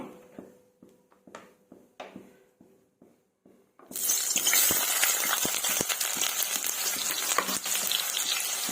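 Thinly sliced onions hit hot oil in a pan: a few sharp knocks and taps first, then a sudden loud, dense sizzle that keeps crackling steadily to the end.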